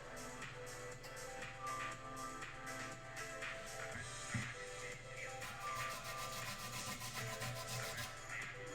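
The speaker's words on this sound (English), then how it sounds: "I'm just using the finest part of a cheese grater." Fresh lime zested on the finest side of a cheese grater, a steady close scraping and rubbing with repeated short strokes, no voices over it.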